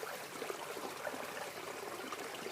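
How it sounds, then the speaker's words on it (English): A small creek in Hope runs past, its water bubbling and burbling in a steady, soft, continuous wash with no voices. "Little creek going by. The water bubbling and burbling."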